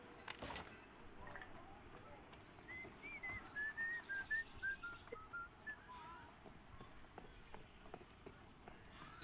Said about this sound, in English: Some good whistling audio.